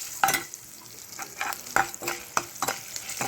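Potato and tomato curry vegetables, salted and frying in hot oil, sizzle steadily while sharp scraping stir strokes come in irregular bursts, close and fairly loud.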